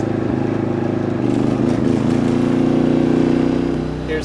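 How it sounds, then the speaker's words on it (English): Maxpeedingrods 3500 W gas/LP generator running under an electrical load: a loud, close, continuous engine drone with a steady throb that holds from start to finish. "Here's the Maxpeedingrods generator with a load on it."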